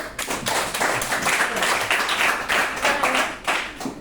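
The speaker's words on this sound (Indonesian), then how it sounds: "Kita beri aplaus dulu" A classroom of students clapping for a teacher, a brisk round of close, uneven hand claps that keeps up throughout without pausing.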